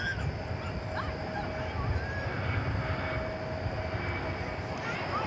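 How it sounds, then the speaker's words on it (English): A long-haul airliner bound for Istanbul makes a slow takeoff at DFW Airport, a steady broad jet roar holding at an even level throughout while faint honks and brief calls sound over it. "And as you would expect on a flight as long as the one to Istanbul, a leisurely takeoff."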